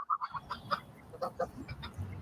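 Faint honks and cackles from several geese call out in quick, irregular bursts, somewhat distant outdoors.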